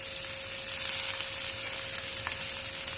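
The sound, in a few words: crushed ginger and garlic sizzling in pan with bottle gourd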